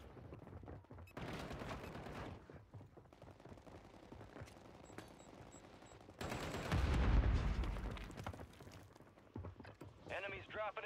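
Gunfire rattles in bursts during Call of Duty MW3 gameplay, mixed with game sounds and a loud swell of shots partway through, with speech over it.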